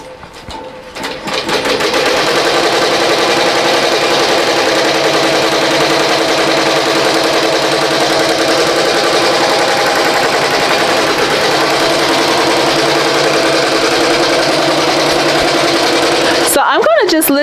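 A BAI Mirror 1501 embroidery machine stitches a sketch design onto a T-shirt, its steady rapid needle chatter running loud and continuous from start to end after a brief quieter start.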